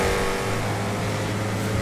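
A Picador Loco car in GTA FiveM gives a steady, loud, close engine drone with a sustained tone that holds throughout, with no talking over it.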